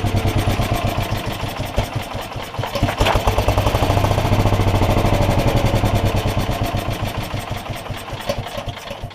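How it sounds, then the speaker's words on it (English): An old Wisconsin engine powering a Sears generator at 1800 RPM runs on full choke near the point of dying, a loud, close, rapid chugging beat that swells and fades slightly. "Well, it's getting ready to conk out. It's on full choke."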